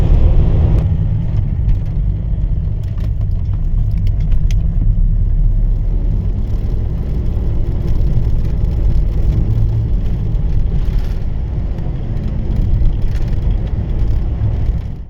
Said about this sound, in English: it was time to start the drive north